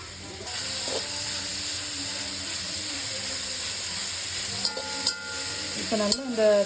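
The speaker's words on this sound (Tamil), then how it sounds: "ஒரு 10 நிமிஷத்துலேருந்து 20 நிமிஷம் வரைக்கும் நல்லா கிண்டிக்கோங்க" Grated carrots frying in ghee for carrot halwa, stirred in a pan over low heat: a steady hiss and sizzle throughout, with scraping stir strokes turning louder near the end.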